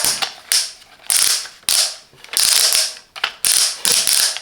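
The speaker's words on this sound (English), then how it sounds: "Two separately pivoting lighting for adjusting the illumination." Parkside LED work light with two separately pivoting heads, ratcheting through adjustment in a series of short, crisp clicking bursts, close and fairly loud, with brief pauses between turns.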